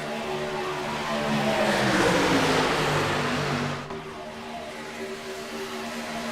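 Race trucks roar past at Talladega in iRacing's truck series, a broad rushing engine drone that swells, then drops off sharply as the pack passes, with no voices over it.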